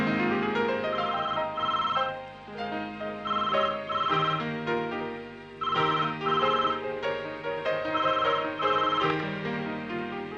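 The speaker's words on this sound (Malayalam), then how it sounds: "നന്ദിനി കുട്ടിക്കാ ഫോൺ." A telephone rings with a melodic electronic ringtone, playing repeated bursts of tonal notes at close range with short gaps between phrases and no speech.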